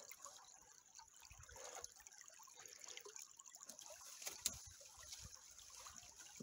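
Water trickles and drips inside the Mooville tunnel, a faint, uneven dribbling with small splashes and one brief sharper knock, heard alone against a quiet background.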